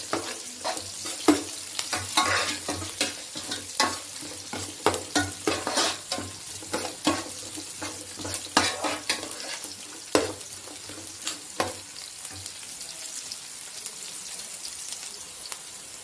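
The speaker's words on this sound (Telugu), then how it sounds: "అందులో బాగా వేగనివ్వాలి ఈ ఆనియన్స్" Onions frying in a pan for a curry, a steady sizzle under repeated scraping and stirring strokes of a spoon, close and moderately loud, with a few brief clinks; no one speaks.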